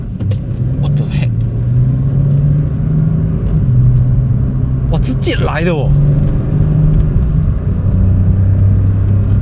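A car engine rumbles steadily while accelerating, with a person exclaiming excitedly partway through; the engine drone is loud and continuous.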